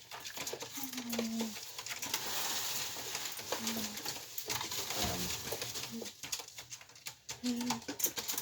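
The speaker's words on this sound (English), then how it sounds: "typical bird." A pet bird coos softly in short, low calls repeated at intervals over a hissy indoor background with faint rustling.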